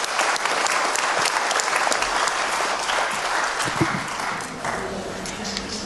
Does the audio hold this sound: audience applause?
yes